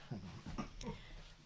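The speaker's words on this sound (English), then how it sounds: "Sorry if you can hear Chewie barking in the background." A few soft, muffled dog barks in quick succession, distant and faint as if from another room.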